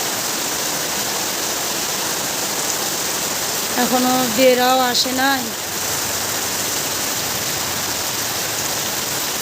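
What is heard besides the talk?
heavy rain pouring down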